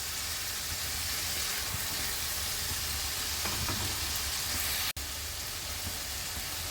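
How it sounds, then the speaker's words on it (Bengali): Masala spice paste for Navaratna korma frying in oil, a steady close hiss and sizzle with faint stirring scrapes and one sharp click near the end. "দেখতে পাচ্ছ মশলাটা বেশ সুন্দরভাবে কষে আসছে"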